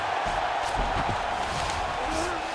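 Fight crowd at a UFC-style bout between Justin Gaethje and Dan Hooker roaring in approval during a grappling exchange, a dense sustained swell of voices over a steady arena rumble.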